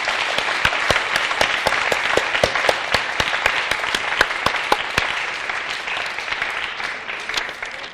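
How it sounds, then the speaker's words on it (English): A graduation audience gives a warm round of applause for the event's support staff, steady dense clapping with a few sharper individual claps standing out, no voices over it. "So please give them another round of applause."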